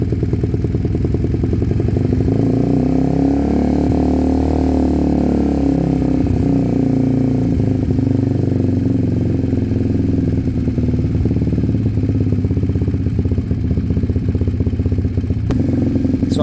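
Sinnis Cruisestar 125 motorcycle engine running just after a fresh carburetor install, a close, loud, steady idle with a throbbing mechanical clatter and slight shifts in pitch throughout.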